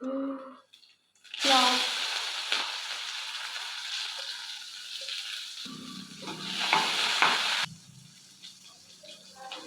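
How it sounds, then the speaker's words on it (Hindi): Cumin and mustard seeds dropped into hot oil, a burst of loud sizzling and crackling that settles into steady frying with some stirring, someone talking over parts of it. "थोड़ा सा जीरा, थोड़ा सा सरसों मैं डालती"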